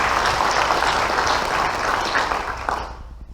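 A board meeting audience gives a sustained round of applause for a new sheriff's deputy joining the school district, dense steady clapping that fades out over the final seconds.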